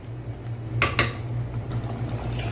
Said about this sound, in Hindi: इसको पकाएंगे थोड़ा सा इस तरह हिलाते हुए